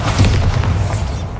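Bombarda explosion spell cast in Hogwarts Legacy on PS5, a single loud, deep booming blast with a rumbling low-end tail lasting about a second and a half.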